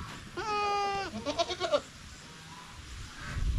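A goat on a farm lets out a drawn-out bleat followed by a quick series of shorter wavering cries, close and clear, then quiet rustling background.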